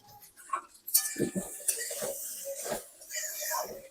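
Flattened rice being stirred in a pan with a utensil, a run of scraping and clinking strokes close by, with a voice talking over parts of it.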